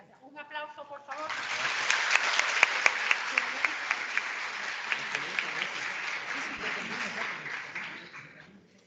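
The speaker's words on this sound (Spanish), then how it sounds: "Un aplauso, por favor." A crowd breaks into steady applause that swells quickly and holds for several seconds before tapering off, with a brief voice at the very start.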